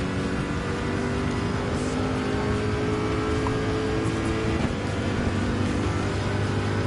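Race car engine held at high throttle during a World Touring Car 800 race at Le Mans in Gran Turismo 7, a steady, loud, continuous drone with sustained tonal whine throughout.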